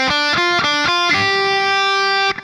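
A distorted electric guitar plays a quick scale in an up-three, back-one pattern: several rapid picked notes followed by a long sustained note that rings out, loud and close, with no talking.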